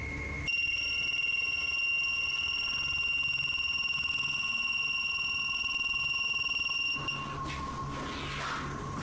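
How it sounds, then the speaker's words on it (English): A handheld EMF sensor held toward a ceiling beeps with a steady, piercing electronic tone that runs continuously at close range, then cuts off abruptly near the end, leaving faint room noise. "the investigators break out an EMF sensor, which starts beeping dramatically when it's held up toward one part of the ceiling"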